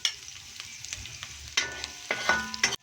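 Garlic, onion, pepper and pork kasim sautéing in a pan for pork caldereta: a close sizzle broken by bursts of spatula scraping and stirring, with a couple of louder clatters.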